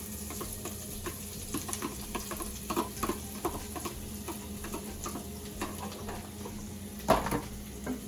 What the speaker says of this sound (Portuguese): Vamos continuar refogando.